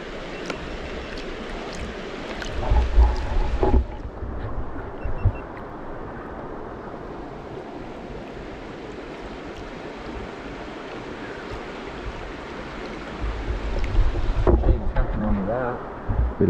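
Gravel and water swirling and sloshing in a gold pan outdoors in Tasmania, a steady wet rushing with gritty scraping, loud and close, with wind noise and some talk in places.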